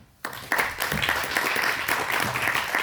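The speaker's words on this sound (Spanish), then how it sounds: "Y quiero pedir un gran aplauso por el compañero Raúl Peralta." Audience at a book presentation breaks into applause for a journalist, warm crowd clapping that starts abruptly and continues steadily, fairly close.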